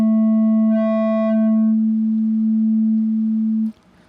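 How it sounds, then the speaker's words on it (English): A steady sine wave runs through a Vocodec wavefolder at low gain, a loud sustained tone with a few faint overtones that briefly swell and fade, cutting off near the end. "So here's a little demo of it with using a sine wave as input."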